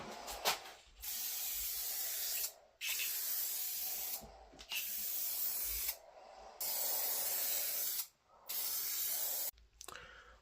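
Spray paint hisses from an aerosol can onto a car headlight lens in a series of steady bursts of a second or two each, separated by short silent gaps, close and clear with no talking.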